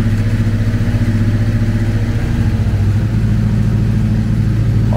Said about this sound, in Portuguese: Estado do motor.